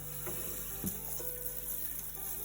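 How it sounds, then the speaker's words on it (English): Wild persimmons being washed in water, a steady running-tap wash with soft splashing and faint clicks of fruit, close and alone with no voices. "Give them a good washing."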